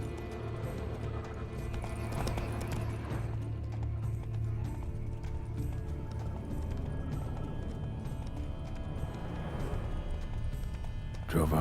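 Horse hooves clip-clop steadily amid a busy, dense mix of sounds in The Witcher 3: Wild Hunt, with voices talking over the clatter.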